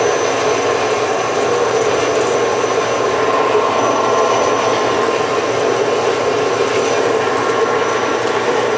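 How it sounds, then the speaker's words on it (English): A bandsaw cuts through metal stock for a toolpost grinder spindle body, with coolant in use, giving a steady, loud, continuous grinding rasp with a faint high whine that runs unbroken for the whole stretch. "Nobody ever shows the bandsaw cuts."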